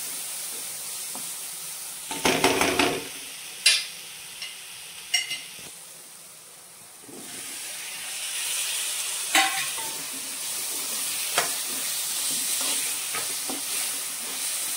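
Prawn curry with potatoes being sautéed in a pan: soft sizzling frying beneath scattered sharp scrapes and stirring clatters of a spoon against the pan, moderately quiet and close.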